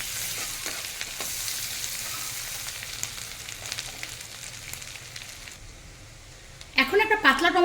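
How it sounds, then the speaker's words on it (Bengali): Chopped onion with ginger-garlic paste frying in a pan over a low flame for a prawn curry, giving a soft, steady sizzle with occasional stirring scrapes that fades before a voice speaks briefly at the end. "এর মধ্যে দেবো অল্প একটু আদা রসুন, খুব মিহি করে পেস্ট করা আছে। ফ্লেমটা এখন লোতে করে দিয়েছি। এটাকেও খুব ভালো করে একটু ভেজে নেব।"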